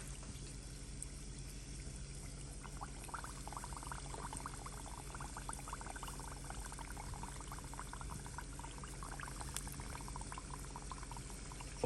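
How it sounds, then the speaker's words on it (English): Pork, shrimp and smoked boudin egg rolls deep frying in hot grease, giving a soft, steady bubbling and crackle that stays fairly quiet and even throughout. "And let's go ahead and drop them in that grease."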